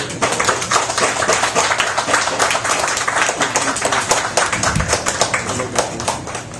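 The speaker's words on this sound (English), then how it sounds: "A round of applause for the brother, y'all" Audience applause at The Rock Lounge after a spoken-word poetry performance, a dense, steady wash of many hands clapping that fills the whole stretch, with a few whoops and voices mixed in.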